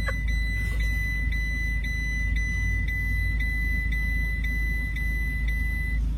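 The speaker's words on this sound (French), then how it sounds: "Bah ouais, mais il y a le bip aussi quoi" A repeating electronic beep sounds at a workshop while wood is taken to a waste skip, about a dozen evenly spaced sharp tones roughly every half second over a steady low engine hum.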